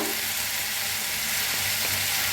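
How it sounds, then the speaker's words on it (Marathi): Diced potatoes roast in a pan for a masala potato dish, giving a steady, even sizzle and hiss close by with only faint movement from stirring and no voices. "बटाटो असं छान भाजून घेतले बघा सारखा ते हलवत भाजायचा"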